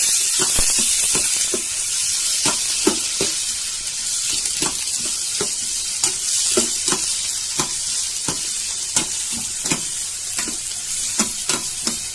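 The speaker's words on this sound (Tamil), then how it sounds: "தக்காளி கட் பண்ணி வச்சிருக்கேம்மா. கொஞ்சம் வதக்கிக்கணும்மா." Chopped tomatoes and onion sautéing in a hot pan, a steady close sizzle with frequent sharp scraping strokes of a spatula stirring throughout, no voices.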